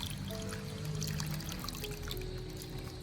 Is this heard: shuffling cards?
no